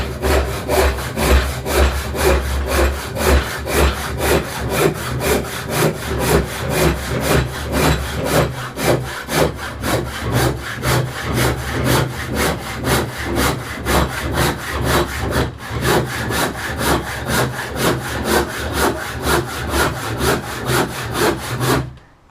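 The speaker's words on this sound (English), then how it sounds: "I'm just going to put it in my vise. Make sure it's nice and tight, and then use my handsaw just to" Handsaw cutting a piece of wood clamped tight in a vise, loud rhythmic back-and-forth strokes repeating steadily and close up for the whole stretch before stopping at the end.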